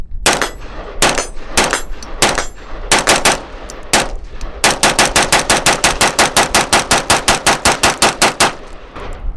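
An AR-15 rifle emptying a full magazine, loud close sharp shots, first a few spaced single and double shots, then a long fast even string of rapid fire to the end, no voices.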